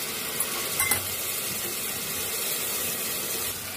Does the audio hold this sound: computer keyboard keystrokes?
no